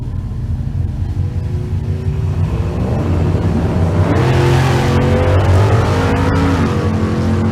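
A Fox-body Mustang launches hard at a drag race, its engine note climbing through rising harmonics as it accelerates away, loud and continuous over the track's roar.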